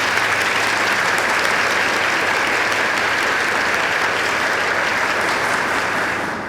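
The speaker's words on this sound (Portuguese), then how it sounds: "Vamos dar uma salva de palmas também para a Dani" A large audience at a UN women's forum conference session bursts into loud, sustained applause, a dense continuous wash of clapping for several seconds that holds steady before tapering slightly at the end.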